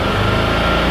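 A Can-Am Defender side-by-side engine, under a charging system test, drones loudly and steadily at high revs, close up, for a brief moment with no talking.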